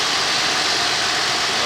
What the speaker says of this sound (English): I don't know if that's engine running.